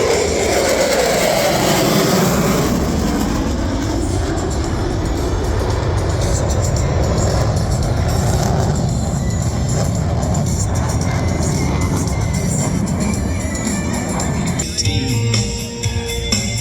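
EA-18G Growler jets roar past at high speed at an air show, a loud, continuous, broadband jet blast with a sweeping pitch as they pass, sustained for the whole stretch.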